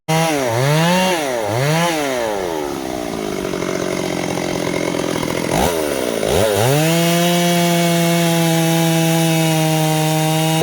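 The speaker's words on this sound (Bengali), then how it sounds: "বছর পুরাতন গাছ কাটছি" A chainsaw cuts into a 300-year-old tree, its engine loud and close, revving up and down in repeated surges before settling into a sustained high roar.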